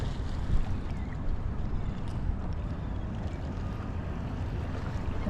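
A boat engine drones steadily across open water as the boat circles, with wind rumbling over the microphone and a low, continuous wash.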